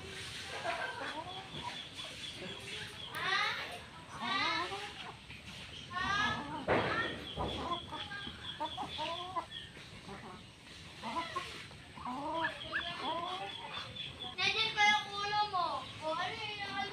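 Ducks at feeding time quack and call busily together, a dense chorus of nasal calls close by that continues throughout with brief bursts of louder activity.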